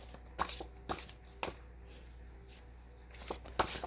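Deck of cards shuffled by hand, several quick crisp riffling bursts separated by pauses, close and fairly quiet, no voices.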